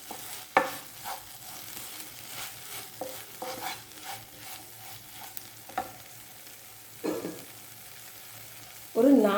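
Drumstick leaves sizzling and frying in a pan, with repeated scraping stirs at an irregular pace; close and moderately loud, no talking.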